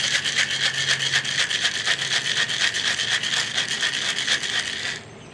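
Ice and crushed fruit rattle in a cocktail shaker in fast, even, steady shaking for about five seconds, loud and close, stopping abruptly at the end with no talk.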